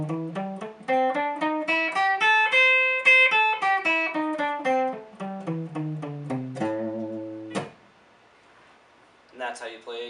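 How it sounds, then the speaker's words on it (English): Clean electric guitar runs up and down the A blues scale in quick single notes, ending on a sustained bend and a final plucked note. "that's how you play the blues scale in A."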